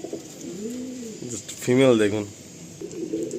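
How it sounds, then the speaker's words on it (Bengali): Andhra breed pigeons coo in a short, rolling burst near the middle, with softer cooing around it and a voice speaking briefly. "এটা আন্ধ্রা জেনারেশনের পায়রা আছে"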